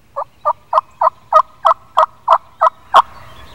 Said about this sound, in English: the birds are still gobbling.